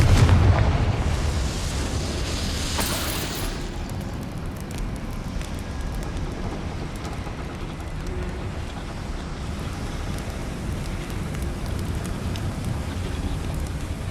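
A Confringo fire spell in Hogwarts Legacy bursts with a loud opening blast, then settles into a long roaring, crackling rumble of flames that stays steady and dense to the end.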